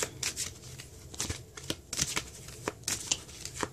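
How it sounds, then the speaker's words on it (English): Tarot cards shuffled by hand close up: quick riffling flutters and soft slaps of the deck in an irregular rhythm, with no voices. "I'll just shuffle right here so you can see."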